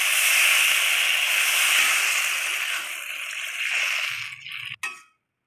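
Water poured into a hot pan of cooked spice mixture hisses and steams loudly, the sizzle fading slowly over several seconds, then a short clink and silence.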